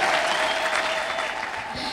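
Applause fills a church testimony service: a dense, steady wash of clapping from a congregation that runs throughout, with a faint sustained tone and possible voices mixed in.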